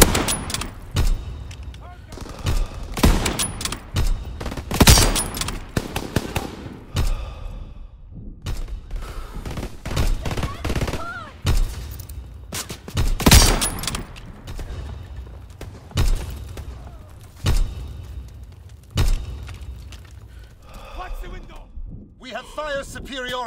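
World War II battlefield gunfire in Call of Duty WWII: sharp rifle cracks and bursts of machine-gun fire burst out again and again among heavy booms, close and loud, with soldiers shouting between volleys.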